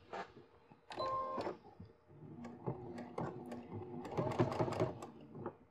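A domestic sewing machine stitches along the edge of a zip with a zipper foot, giving quiet bursts of rapid mechanical whirring and ticking separated by brief pauses, close and soft.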